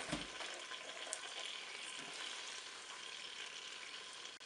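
Leftover marinade and peeled tomatoes go into the hot bowl of a Cookeo multicooker cooking chicken thighs, giving a steady, close sizzle and liquid hiss that holds evenly for several seconds without speech.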